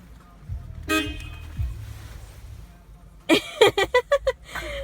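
A toy car's horn honks in a rapid run of short, bright beeps after an earlier single toot, close up with faint background noise.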